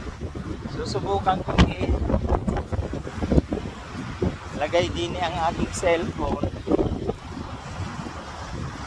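Gusty wind by the sea at high tide at Loran, Bagamanoc, on Catanduanes Island, buffets the microphone near the shore, roaring in uneven bursts while someone talks over it.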